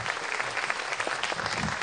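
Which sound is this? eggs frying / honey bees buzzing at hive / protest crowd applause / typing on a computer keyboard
protest crowd applause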